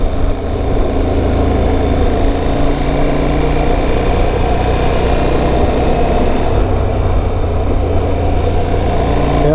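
A KTM 1290 Super Adventure S motorcycle fitted with a Rekluse clutch runs with a loud, steady engine drone that stays even and close throughout, with no voices.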